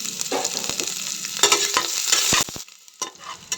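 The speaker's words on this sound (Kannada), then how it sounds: "ಬೊಕ್ಕ ನೀರುಳ್ಳಿ ಐನ್ ಪೂರ ಪಾಡ್ದು ಫ್ರೈ ಮಂತೊಂದೆ" Onions with cinnamon, star anise and cloves fry in ghee for green chicken ghee rice, a close sizzle under repeated spoon scrapes and clacks against the pan, then fading quieter near the end; nobody speaks.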